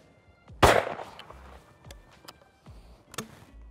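Two sharp, loud reports from a Beretta Ultraleggero shotgun fired outdoors at clay targets, spaced a couple of seconds apart, each followed by a short echoing tail and faint rustling in between.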